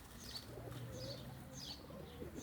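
Soft, low cooing of pigeons on the ground on a hot day, faint and distant, with a few brief higher chirps repeating through the stretch.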